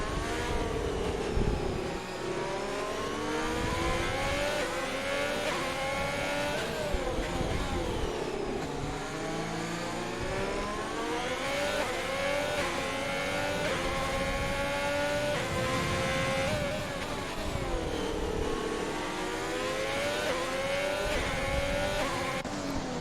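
Race car engines in a PC racing game at the Sao Paulo circuit, Brazil, whining loudly and steadily as revs rise and fall through gear changes, with several cars overlapping.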